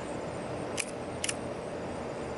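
Two crisp mechanical clicks of a Zeiss Ikon Nettar folding camera shutter being opened and released, close and fairly quiet, spaced about half a second apart over a steady background hiss.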